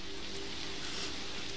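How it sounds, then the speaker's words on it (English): Steady rain in the video game Observer, a constant, even hiss of drops falling on surfaces with no voices over it. "Don't mind the rain."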